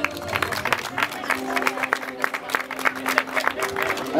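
Scattered clapping from a crowd for a third-place runner at a charity race, steady but not thunderous, with a murmur of voices underneath throughout.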